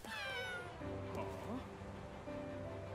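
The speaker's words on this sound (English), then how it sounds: "That was a cat!" A cat meows in the video game Gravity Rush 2, a short, rising-then-falling call heard over background game music and speech.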